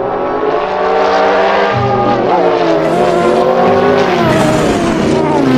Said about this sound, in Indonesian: ini mobil balap sport